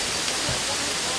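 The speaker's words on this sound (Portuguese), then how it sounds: "São 35 metros de queda d'água, a mais alta e conhecida cascata do Parque Nacional da Tijuca." The 35-metre Cascatinha Taunay waterfall in Tijuca National Park, Rio de Janeiro, a loud, steady broadband rush of falling water that fills the whole moment without letup.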